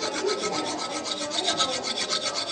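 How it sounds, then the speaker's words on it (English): Metal file rasping across a stone sculpture to deepen a carved area, rhythmic back-and-forth strokes at about four per second, close and steady with no talk. "I go back and start to use this file to get it deeper"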